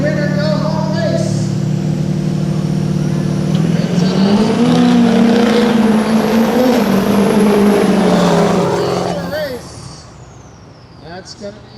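Production trucks thunder down a drag strip in a loud, sustained engine roar that swells and shifts pitch as they pass, then drops away abruptly to a quieter fade.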